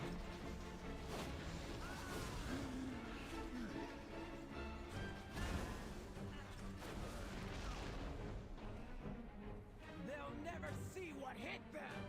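Cannons fire during a World of Warcraft Dragonflight encounter, with repeated booms and crashes layered over busy game music and effects throughout, loud and continuous.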